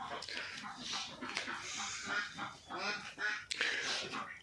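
Ducks from a farm flock of about 250 honk and quack in overlapping, fairly close calls, some raspy and goose-like, mixed with a little background talk.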